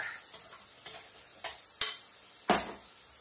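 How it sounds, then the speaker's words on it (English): A utensil mixing BBQ chicken thigh food in a bowl, a run of sparse scrapes and clinks at irregular intervals, the loudest two near the end, close up in a quiet kitchen. "I'm just going to now mix this up, ready for the next time."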